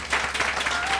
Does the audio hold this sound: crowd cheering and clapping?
yes